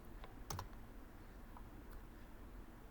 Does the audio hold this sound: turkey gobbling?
no